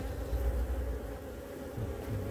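A continuous low hum of honey bees buzzing around an open hive of a fairly calm colony, steady and close throughout with no talk.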